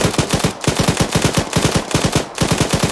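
Close, loud automatic gunfire in the video game Arma 3 rattles out as rapid, evenly spaced bursts, with a few short gaps between the strings of shots and no voices over them.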